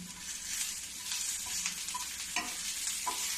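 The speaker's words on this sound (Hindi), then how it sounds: "ये भी मैं इसी में डाल दूंगी। अब इसको थोड़ी सा भूनूंगी," Grated ginger sautéing in a pan for samosa filling, a continuous close sizzle with light scraping of a spoon stirring through it.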